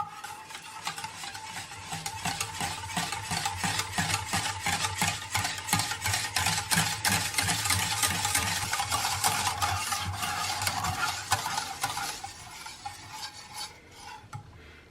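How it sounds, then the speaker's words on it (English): A whisk beats Greek yogurt into chocolate mousse in a bowl with a quick, steady rhythm of close scraping and clicking strokes that go on for about twelve seconds, then stop. "Then we'll whisk the yogurt in to combine together."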